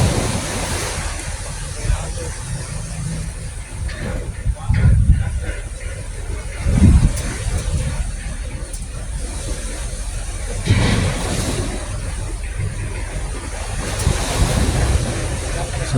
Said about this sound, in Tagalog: So ang dagat ngayon parang malikot masyadong dagat ngayon